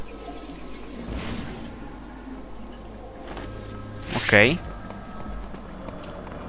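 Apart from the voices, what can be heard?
telephone ringing in a video game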